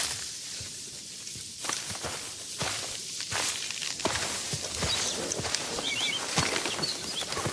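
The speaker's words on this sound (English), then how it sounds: "You can distinctly hear the crunch of the forest floor right under her feet." AI-generated footsteps crunching across a forest floor with rustling leaves and vines, a steady run of soft, close steps over a dry, crackling bed of debris.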